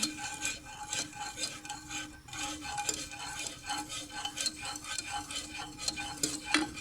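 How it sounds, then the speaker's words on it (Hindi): A sweet dessert mixture is stirred in a pan over a low flame with steady, rhythmic scraping strokes of a spoon against the metal, close and continuous. No voices. "लो फ्लेम पे इसे इस तरह हिलाते जाएं।"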